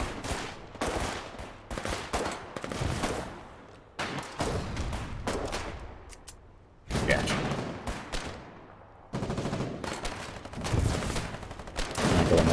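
Foxhole battlefield gunfire rattles in repeated loud bursts of rifle and machine-gun fire with distant booms, while players talk over it at times.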